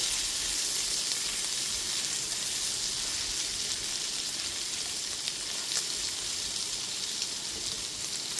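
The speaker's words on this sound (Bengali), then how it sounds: "এবার আদা বাটাটা দিয়ে রসুনের সাথে খুব ভালো মতো একটুখানি মিশিয়ে নিচ্ছি।" Ginger paste and garlic sizzle and fry steadily in a hot pan, a dense, even crackle holding at the same level throughout with no pauses and no voices.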